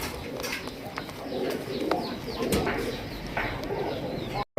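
Pigeons coo softly and repeatedly in a low, rolling rhythm, close by, with faint chirps and background rustle.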